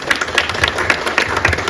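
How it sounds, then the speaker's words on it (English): Dense applause from an office audience celebrating Independence Day, welcoming a regional head to the stage; steady clapping crowd at moderate distance, continuous throughout with no pauses. "A huge round of applause for Ajay."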